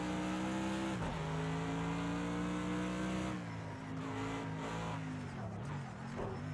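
An AMG GT3 race car in the Project CARS 2 racing game, on the Bathurst circuit, holds a loud, steady engine drone that dips as it shifts, then climbs and wavers under throttle, close and continuous without talk.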